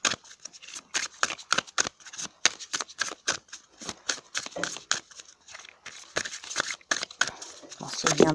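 Tarot cards are shuffled and drawn by hand, producing rapid bursts of crisp riffling and flicking close up, irregular and repeated, with a voice speaking briefly now and then.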